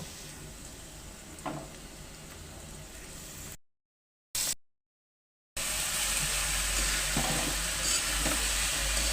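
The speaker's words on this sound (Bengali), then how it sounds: "এখন এটা ছিঁড়ে দিয়ে কিছুক্ষণ ভাজি করব" Torn dried chillies fry in hot oil in a pan, a close continuous sizzle with occasional stirring scrapes, broken by two sudden silent gaps before the frying returns louder.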